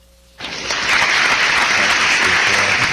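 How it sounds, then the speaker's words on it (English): Canned applause from an applause button kicks in abruptly after a quiet moment, swelling into dense, sustained clapping and cheering that stays loud and even to the end. "The guy in charge of the applause button gets the applause."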